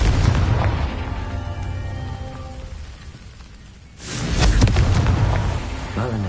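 A Confringo blasting spell goes off in Hogwarts Legacy, a sudden loud boom that swells into a rumbling burst after a quieter stretch of game ambience.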